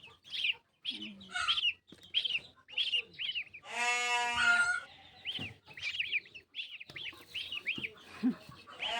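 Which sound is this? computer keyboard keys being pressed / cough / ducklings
ducklings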